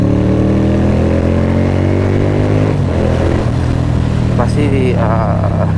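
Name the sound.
V-twin motorcycle engine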